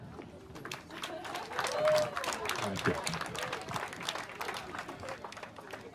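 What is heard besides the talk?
applause for the parents of the bride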